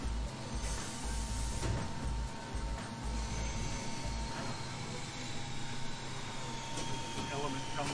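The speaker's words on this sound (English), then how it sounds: "The machine is programmed, the button is pressed to start it, and the welding process begins" A plastic sheet butt welding machine runs its welding cycle with a steady low mechanical hum and hiss, plus a faint tonal whine and occasional clunks, while a person talks over it.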